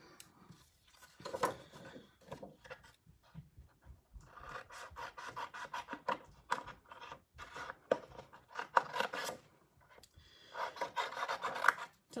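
Scissors cut a square of paper for a craft heart punch in close, quiet bursts of rasping snips and rustling paper, alone without talk.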